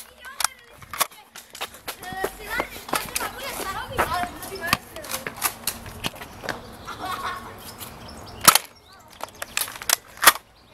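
Nerf Strong Arm blaster firing during a casual indoor Nerf game, with sharp snapping pops scattered among clattering handling noises while young people chatter and laugh throughout.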